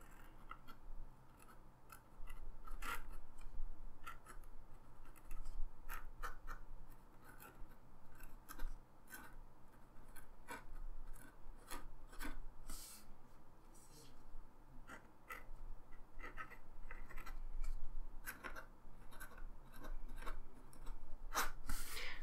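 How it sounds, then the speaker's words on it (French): A flexible fountain pen nib, Swan Pens Manga, scratches across paper in short, rasping strokes, faint and close, repeating irregularly with small pauses between them. "il y a quand même beaucoup de scratch sur le papier"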